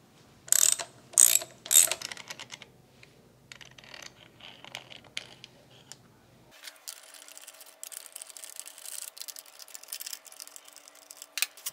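A ratchet wrench loosens 10 mm bolts holding the air cleaner elbow on a Honda GXV530 overhead cam twin cylinder engine, with three quick bursts of clicking near the start followed by irregular mechanical clicks and rattles.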